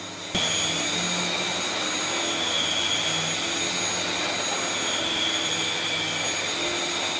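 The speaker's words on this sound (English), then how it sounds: "Believe me, when I say this is a really powerful power head, it really works quite well. See how much it digs into the carpet?" A powerful vacuum cleaner power head runs steadily on carpet, a loud constant whine and rushing roar that starts abruptly and holds without pause.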